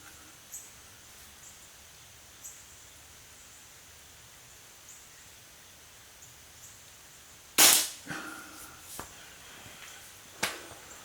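A single sharp shot from an Air Venturi Avenger air rifle fired inside a garage, a crisp crack with a brief echoing tail, followed by a few faint clicks and taps in a quiet room.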